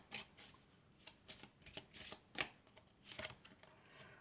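Tarot cards being shuffled in a series of soft, papery riffles and flutters that come in uneven bursts, close and quiet, with no talking over them.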